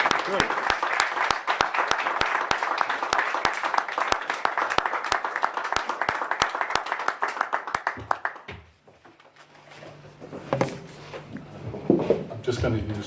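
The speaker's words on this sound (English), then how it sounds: "make a big round of applause for Anton" A folk club audience gives a warm round of applause for a performer, dense clapping with a few sharp louder claps, running about eight seconds before fading into shuffling and a voice speaking.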